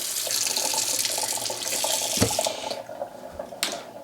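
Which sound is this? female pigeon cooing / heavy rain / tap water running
tap water running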